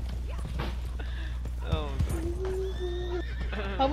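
A medium-sized horse in Red Dead Redemption 2 whinnies in several rising and falling calls over clip-clopping hooves, with players talking throughout.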